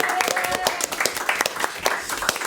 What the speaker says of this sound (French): qu'on les applaudisse une deuxième fois parce que c'est quand même une sacrée performance